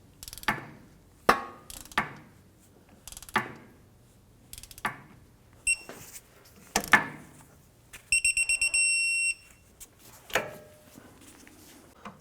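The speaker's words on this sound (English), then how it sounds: "torque our upper clevis bolt to 32 foot-pounds" Torque wrench tightening the upper clevis bolt of a front sway bar link on a 2004-2008 Acura TL, set to 32 foot-pounds: a series of sharp, spaced metallic clicks and ratchet snaps, plus a brief sustained electronic beeping tone partway through.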